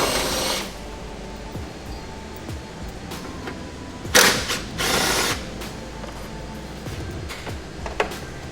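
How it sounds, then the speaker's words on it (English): Bolts of 12 mm come off the air filter housing of a third-generation Toyota Tacoma with a ratchet, giving bursts of clicking and short whirring runs amid faint clatter and handling noises. "we're going to be removing these 3 bolts from the bottom filter, and they're going to be 12mm"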